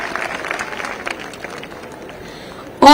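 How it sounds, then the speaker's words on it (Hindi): Audience applause for the chief minister at a Jharkhand Diwas celebration at the Delhi trade fair, a crackle of clapping that fades to a faint murmur, then a burst of music at the end. "जोरदार तालियों से आभार करें माननीय मुख्यमंत्री महोदय का"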